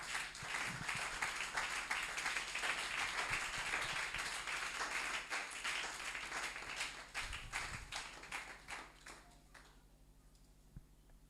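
Church congregation applauding and acclaiming the Lord, a dense wash of many hands clapping with some cheering, steady and loud before gradually thinning and fading toward the end.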